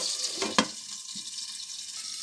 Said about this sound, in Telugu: ఇలాగే ఫ్రై చేసుకోవాలి